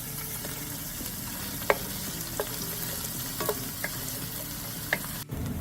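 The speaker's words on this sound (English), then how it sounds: "Two chopped shallots. We're going to saute them for 2 to 3 minutes." Chopped shallots sautéing in a pan give a steady close sizzle throughout, with a few light scrapes and taps of stirring and no talk.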